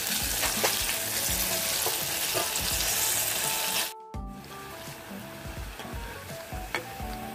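Slices of guava fry in hot oil with a loud, dense, continuous sizzle and bubbling, briefly cutting out once before resuming, with faint stirring scrapes throughout and no voices.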